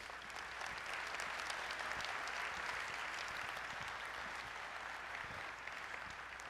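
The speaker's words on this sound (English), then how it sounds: "Let's give them a round of applause." A large keynote audience at a developer conference applauds the event sponsors, giving steady, dense clapping at a moderate distance, sustained without a break.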